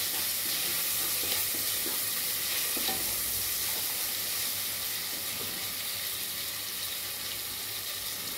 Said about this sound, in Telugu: ఆనియన్ కొంచెం మగ్గుతుంది బాగా